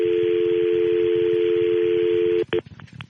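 A steady telephone dial tone hums loudly for a couple of seconds, then breaks into a quick run of keypad dialing beeps as a call back is placed.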